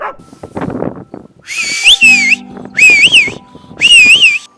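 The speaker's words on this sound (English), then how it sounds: "includes a speaker to record his dog's barking and also his whistle" A herding whistle played back through the speaker of a DJI Mavic 2 Enterprise drone over sheep pasture in Ireland: three loud, warbling rising-and-falling whistle bursts, with faint knocks and handling noises in between.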